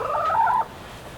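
A backyard chicken held up in the hands gives a short warbling cluck, close and fairly loud, that stops abruptly and leaves quiet room noise.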